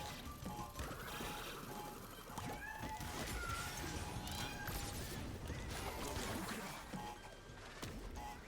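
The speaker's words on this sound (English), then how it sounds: "yep, she's meowing a lot right now." A cat meows repeatedly amid a dense, loud wash of video game sound effects and music, with crashes and mechanical noises throughout.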